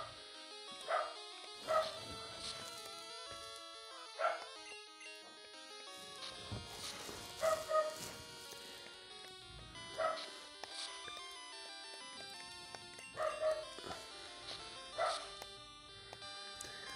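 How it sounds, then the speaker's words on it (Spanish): A small pet dog yips and whimpers in short bursts at moderate volume, heard over electronic video game music with repeating melodic tones. "de vez en cuando van a estar escuchando a mi perrita"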